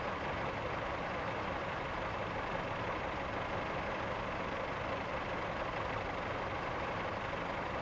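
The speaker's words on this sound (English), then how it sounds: "Lots of engine noise going on." Steady, loud train engine drone in Train Sim Classic on the South Wales Coastal route, a constant dense rumble running without a break and with no talk over it.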